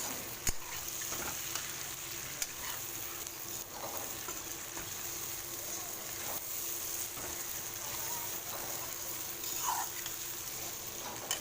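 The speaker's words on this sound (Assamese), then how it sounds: "এইখিনি খুব ভালদৰে মিলাই ল'ম এতিয়া" Pumpkin and potato pieces with duck meat sizzle and fry in a pan as they are stirred, a soft continuous crackle broken by scraping strokes and occasional clinks, fairly quiet and without speech.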